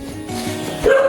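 A dog gives a single short, loud bark up close, with faint background noise before it.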